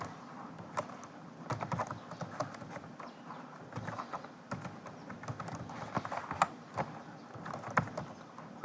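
Computer keyboard clatters in irregular bursts of keystrokes while code is written, fairly close and steady across the stretch with no talking.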